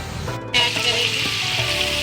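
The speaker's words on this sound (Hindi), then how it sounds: "हम इसमें दही ऐड करेंगे और इसे भूनेंगे अच्छी तरह" Mutton fries with yogurt in a pan for mutton choliya, a loud, continuous sizzle that swells after a brief start and keeps bubbling steadily.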